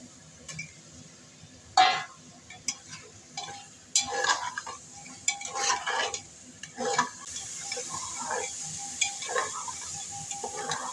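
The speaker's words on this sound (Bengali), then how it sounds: "এবার আমি চিকেনটা দিয়ে দিচ্ছি মশলার সঙ্গে ভালো করে একবারে বসিয়ে নেবো একসঙ্গে" Chicken pieces frying with spices in a pan make a soft background sizzle, broken by repeated stirring scrapes and knocks against the pan.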